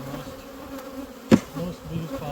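Honey bees buzz steadily around an open hive while frames are being sorted, a dense continuous hum with one brief louder bump near the middle and no speech.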